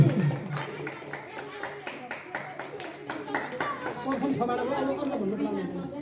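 An audience at a school prize-giving ceremony claps to welcome a student, a sustained patter of many hands under murmured chatter and voices.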